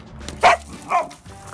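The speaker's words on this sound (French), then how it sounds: "Arrête d'aboyer, c'est tard." A dog barks twice in quick succession indoors at night, two sharp, moderately loud woofs over a faint background hum.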